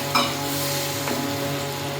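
Spiced fish sizzling steadily in a frying pan while being stirred, a continuous close hiss with a brief scrape near the start and another soft stir about a second later.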